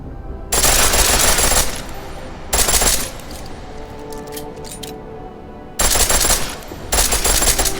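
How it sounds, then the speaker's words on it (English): A pistol fires on full auto in Deus Ex: Mankind Divided, loud rapid bursts of shots in several separate strings with quieter gaps of ambient game sound between them. "The pistol in full auto will take down targets fast, but it'll burn through your ammo"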